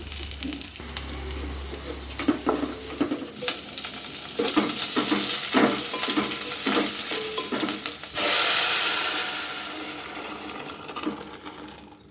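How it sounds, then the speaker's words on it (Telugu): Spices sizzle and crackle in hot ghee, tempering for a mango dal, amid stirring and clinking, with a louder burst of hissing late on. "నేను నెయ్యితో తాలింపు వేశానండి"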